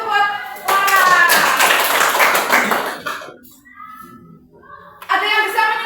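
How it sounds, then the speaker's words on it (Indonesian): Children in a classroom clap for a classmate, a dense burst of small hands lasting a couple of seconds, mixed with young voices chanting and speaking, then a brief quiet before the clapping and voices resume. "tepuk tangan juga buat Laras"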